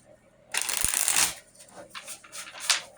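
A deck of tarot cards riffled and shuffled by hand in one loud, bright burst of flutter, followed by quieter bursts as the cards are squared and shuffled again, close up with no talk.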